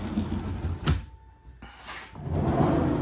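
A wooden drawer of a mobile woodshop's table slides with a scraping rumble, a pause, then another slide and a knock as it moves, all nearby and fairly loud.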